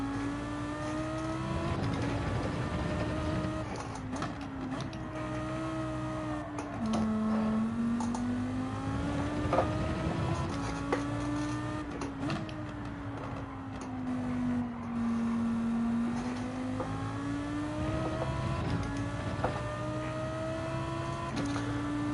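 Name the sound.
V10 race car engine roaring in Gran Turismo 7 video game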